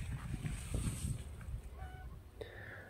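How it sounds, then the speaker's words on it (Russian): Neighbors' chickens cluck and call in the distance outdoors, a few faint, scattered squawks over a low background rumble. "Куры как поют у соседей."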